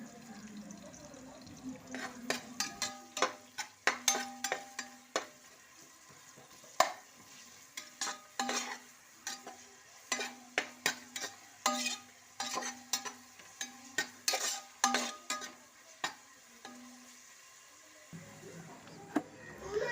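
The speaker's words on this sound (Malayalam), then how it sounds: "ഉള്ളി ഒന്ന് പെട്ടെന്നൊന്ന് വഴണ്ട് കിട്ടാൻ വേണ്ടിയിട്ടാണ് ഇച്ചിരി ഉപ്പും കൂടെ ഒന്ന് ഇട്ട് കൊടുക്കുന്നുണ്ട്" Onions sautéing with a pinch of salt in a pan, stirred in quick repeated scrapes and taps over a soft steady sizzle, close and fairly quiet throughout.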